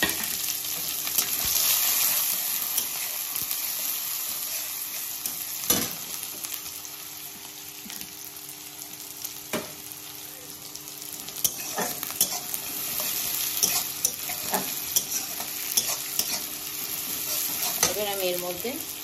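Onion fries in hot oil with panch phoron, radhuni and bay leaf, a bright continuous sizzle with occasional clinks and scrapes of a stirring spoon against the pan, close and steady with no speech.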